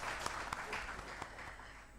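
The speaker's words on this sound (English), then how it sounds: "Can we have another round of applause for them," Audience at a family justice summit applauding the presenters, a steady, moderately distant patter of clapping with a few sharper claps standing out.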